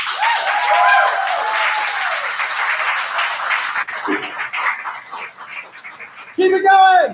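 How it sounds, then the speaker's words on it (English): Audience applause for a performer called Brave Nate at a live show, dense clapping mixed with loud whoops and voices for about four seconds, then thinning to scattered claps before a brief loud burst of cheering near the end. "please give a huge round of applause to Brave Nate!"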